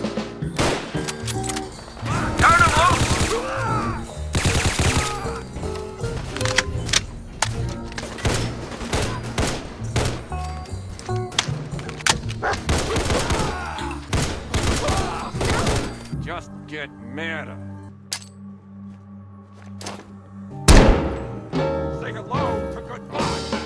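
Gunfire from Combined Arms mod weapons in the video game Fallout 4 comes in rapid volleys of sharp shots and heavy thuds, loud and dense at first, then thinning into scattered single blasts.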